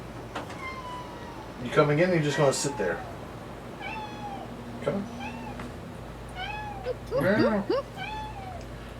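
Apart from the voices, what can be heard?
cat meowing in the room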